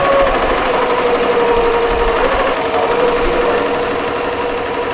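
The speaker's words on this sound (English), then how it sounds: "now we're going to go ahead and let the MT1501 go spin" A Ricoma MT1501 embroidery machine runs up close with a loud, fast, steady mechanical chatter of the needle stitching, alongside a constant motor whine and no talk.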